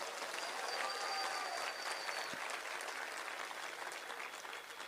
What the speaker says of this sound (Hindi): हमारी स्पेस एजेंसी, अंतरिक्ष की संस्था इसरो के लिए जोरदार तालियां बजाइए।